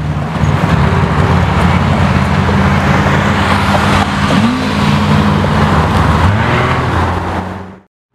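A Lamborghini Aventador SVJ with Gintani tuning roars close by, engine revving and pitch shifting as it drives past, then the sound cuts off abruptly.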